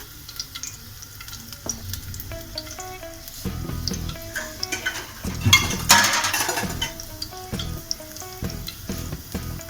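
Garlic cloves sautéing in oil for an egg masala biryani give a steady close sizzle, with occasional clinks of a utensil against the pan and a louder burst of frying partway through.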